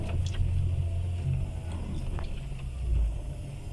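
A car engine strains in low gear with the throttle held wide open while stuck on a muddy road, a steady low rumble that swells briefly near the end without climbing much in pitch.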